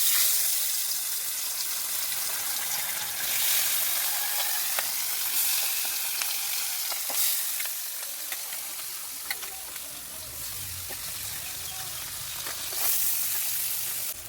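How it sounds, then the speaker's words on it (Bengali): Pabda fish frying in hot oil in a wok: steady, loud sizzling and crackling throughout, with occasional sharper pops and spits over the continuous hiss. "এখন কড়াইটা গরম হয়ে গেছে, তেল দিয়ে মাছটা ভেজে নিই"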